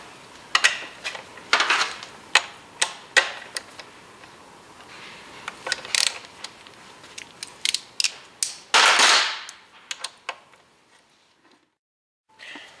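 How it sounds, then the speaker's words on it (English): A wrench or ratchet works a rear brake caliper bolt loose on a motorcycle, a close series of clicking ticks and metallic scrapes, then a longer grinding burst and a few faint clicks near the end. "One more bolt to get the caliper off."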